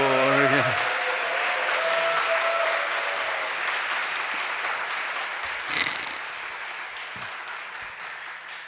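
A church congregation applauds as the senior pastor comes forward, a broad wash of clapping that slowly thins and fades, while a voice speaks over it at the start and again partway through.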